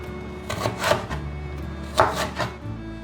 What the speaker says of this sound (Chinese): 把红萝卜切成长片的条状